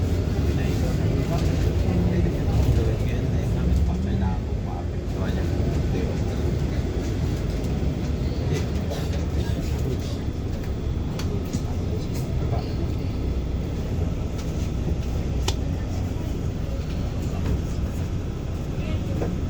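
Steady rumbling roar of a Dubai Metro train in motion, heard from inside the carriage as a continuous close hum with faint rattles throughout.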